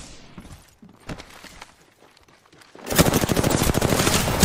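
Gunfire in the battle-royale shooter Apex Legends: a few scattered shots, then a sudden, loud, sustained automatic burst of rapid shots that fills the last second and a half.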